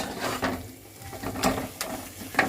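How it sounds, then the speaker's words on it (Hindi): Tomatoes sautéing in a pan for a banana curry, with soft sizzling and a few scraping stirs of a spoon against the pan, close and fairly quiet, no talk. "ये टमाटर डालने के बाद भी इसको अच्छे से भी भूनेंगे जब तक ये टमाटर पक ना जाए"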